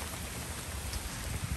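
Steady rain falls outside a hotel in Bar Harbor, Maine, a continuous dense hiss of drops with soft low patter and no voices.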